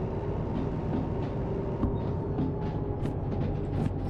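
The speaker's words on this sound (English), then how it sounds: "how's this train of ours? Are you still rolling, or have you had enough?" A freight train rolls along the rails in the Derail Valley railway simulator, giving a steady, continuous low rumble with faint clicks of wheels on track. No one speaks over it.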